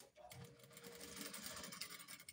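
Sewing machine top-stitching panels of an old-school safari shirt, a steady close whir of stitching that runs continuously for a couple of seconds with a faint scratchy edge.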